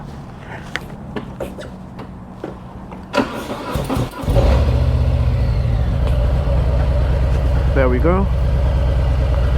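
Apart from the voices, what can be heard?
engine cranking and starting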